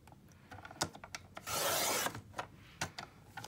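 Scissors cut paper into half-inch strips for paper beads: scattered sharp snips and paper rustles nearby, with one longer continuous swishing cut in the middle.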